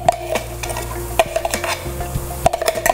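Onions frying in a pan as they turn reddish, stirred with repeated scraping clicks and clatter over a steady sizzle, close and fairly loud.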